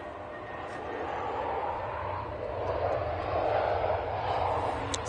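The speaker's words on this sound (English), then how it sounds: "So EasyJet A320 from Geneva." EasyJet Airbus A320 from Geneva passing at Manchester Airport, a steady broad engine roar holding at moderate loudness and swelling slightly toward the end, with no talk over it.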